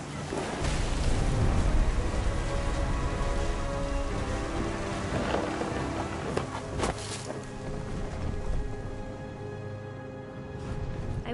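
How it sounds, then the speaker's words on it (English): Heavy rain pours steadily during a thunderstorm in What Remains of Edith Finch, a dense close wash of drops with occasional low thunder rumbles and sharper crackles, continuous and loud throughout. "The thunder sounded much too close and full of angry power."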